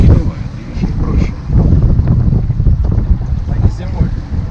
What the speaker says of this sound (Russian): Как они на таких лодках плавают, если тут такое волнение?